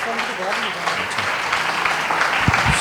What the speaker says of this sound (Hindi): जोरदार तालियां बजाएं खुदा के कलाम के लिए